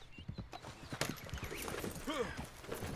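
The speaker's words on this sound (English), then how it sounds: "Oh, somebody on a horse." Horse hooves clip-clopping in the Western video game Red Dead Online, a rhythmic run of quiet hoof beats drawing closer, joined by a brief whinny, all faint and low in level.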